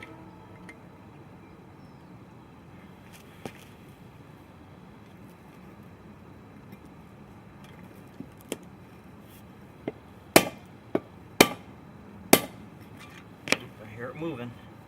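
Front wheel bearing races being driven out with a steel punch and hammer: quiet shop noise and faint talk at first, then a run of sharp metallic strikes that get louder and closer together toward the end.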